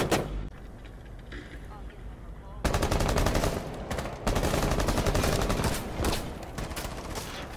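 Rapid automatic gunfire rattles through a Rainbow Six Siege match, a quieter stretch giving way to dense, loud bursts of shots that run for several seconds with brief gaps, with speech mixed in.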